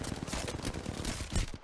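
Dense, rapid gunfire from the video game Apex Legends crackles continuously in a busy firefight, with a heavier shot near the end, loud and close throughout.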